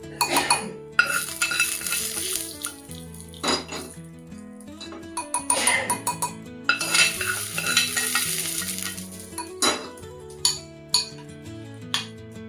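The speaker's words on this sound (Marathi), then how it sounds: "हे सगळं व्यवस्थित कालवून घ्यायचं" A spoon scrapes and clinks against a bowl while beetroot bharit is mixed with tempering, repeated stirring strokes with occasional sharper knocks, close and clear.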